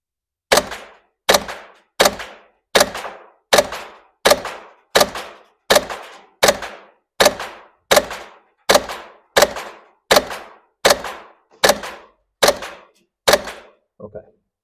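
A Novritsch SSQ4 HPA airsoft rifle fires about fifteen single shots at a target, each a sharp, close pop with a brief decaying tail, spaced evenly roughly a second apart.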